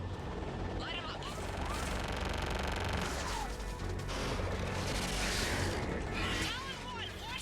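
Gunship weapons fire raining down on ground targets during an aerial battle in Mass Effect 3, a loud continuous barrage of bursts and explosions with intermittent whistling streaks over dense background noise.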